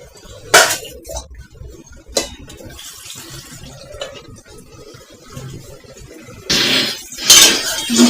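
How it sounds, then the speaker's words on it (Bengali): A metal lid set onto a cooking pot in a home kitchen where chicken breast and long beans are being fried, giving a few close clanks and clatters amid running water and dish sounds. "একটু ঢাকনা দিয়ে দিই।"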